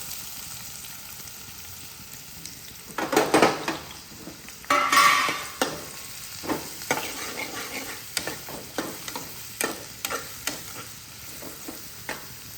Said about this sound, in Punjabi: ਤੇਲ ਆਪਣਾ ਗਰਮ ਹੋ ਚੁੱਕਾ ਤੇ ਹੁਣ ਆਪਾਂ ਇਹਦੇ ਵਿੱਚ ਪਾਵਾਂਗੇ ਆਪਣੇ ਪਿਆਜ਼